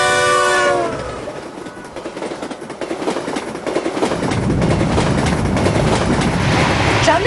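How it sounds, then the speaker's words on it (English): Indian Railway passenger train, a horn blast at the start giving way to a rolling rumble and rhythmic clatter of wheels on track that grows louder and busier. "Traveling by train all night is a very difficult task."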